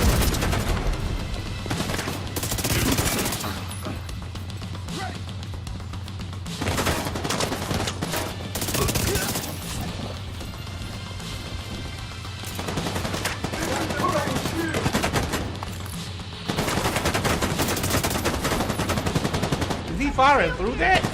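Sustained automatic gunfire from The Division 2 video game, dense bursts and rapid rattling volleys continuing almost without pause over a steady low in-game drone.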